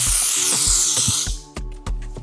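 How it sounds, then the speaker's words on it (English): A broad hissing sunscreen mist spray runs for over a second, followed by a few short soft taps and puffs, close and fairly loud. "and simply spray."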